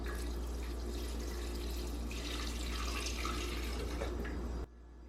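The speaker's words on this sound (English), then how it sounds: "I'm also just going to add some water to this." Water pours steadily into a bowl in a continuous splashing stream, close by, then cuts off abruptly near the end.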